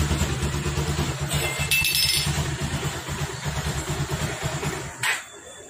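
A Bajaj Pulsar motorcycle engine runs steadily after being refitted, a close, throbbing idle with a brief burst of higher revving midway and another short flare near the end before it drops away.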